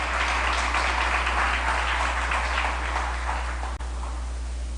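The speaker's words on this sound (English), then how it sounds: "give him a round of applause." Round of applause from a chamber of commerce audience, a steady wash of many hands clapping over a constant low electrical hum, evenly sustained and slightly distant.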